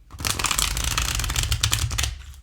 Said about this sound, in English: Stiff indie cardstock. and they stick a little bit because of the soft touch finish. Doable shuffle.